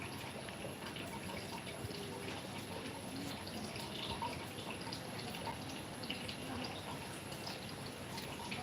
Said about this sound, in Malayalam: ഇവിടെ മഴ മഴ ചാറുന്നുണ്ട്